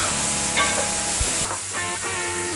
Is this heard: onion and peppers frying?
yes